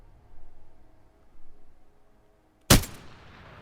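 A single gunshot from a gun in Apex Legends, fired once to the body with an extended mag, 4x optic and shoulder grip fitted: one loud, sharp crack after quiet, with a short ringing tail.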